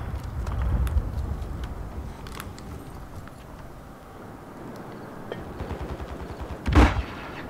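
Shotgun fire in the multiplayer shooter Call of Duty Modern Warfare 3, scattered shots over a busy, rumbling game mix with one louder, close blast near the end.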